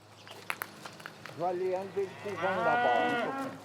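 Dairy cows in a free-stall barn at the foot of the Jura, with one long, loud, close moo rising and swelling near the end, preceded by a shorter call and faint shuffling and knocks.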